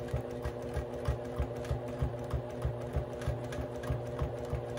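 A sewing machine stitches free-motion quilted feathers, its needle pounding in a steady rapid rhythm over a constant motor hum, close and alone with no talking.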